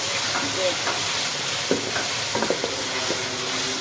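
Onion, bay leaf, cardamom, cinnamon, clove and ginger frying in a pan, a constant hissing sizzle with soft scraping knocks from stirring scattered through it, close and steady without talking.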